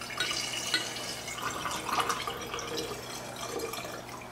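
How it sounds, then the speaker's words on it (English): Hydrobromic acid being poured into a 500 milliliter round bottom flask in a lab, a faint steady trickle of liquid running throughout with a few splashy peaks, quiet and close. "I'm going to charge the reagents into a 500 milliliter round bottom flask with a stir bar in the 500 milliliter mantle"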